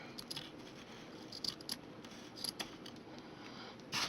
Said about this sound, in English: I'll go ahead and trim this down right here.